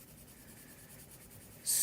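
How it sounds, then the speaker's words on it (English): Pastel pigment scratched and rubbed into textured paper in steady soft strokes, quiet and close, ending in a louder, brighter scrape. "Just got to make sure I've got enough pigment down to be able to"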